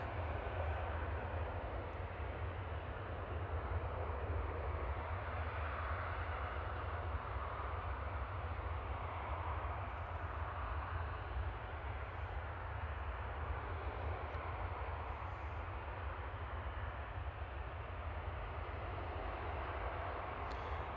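Airbus A380 taking off at full power from Manchester Airport in the evening, a steady, loud broadband jet roar with deep low rumble holding constant throughout, no voices.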